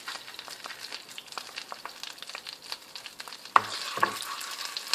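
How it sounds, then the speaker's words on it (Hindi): Ketchup sizzling in melted butter in a pan, a steady soft crackle with light stirring scrapes, then a sharper louder hiss as more goes in near the end. "मक्खन पिघल चुका है और अब मैं इसमें केचप डाल दूंगी"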